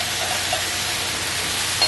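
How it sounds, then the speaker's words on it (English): Orzo pasta and vegetables sizzling in a hot pan, a steady bright hiss that holds level throughout with no voices. "Don't you just love that sizzling sounds?"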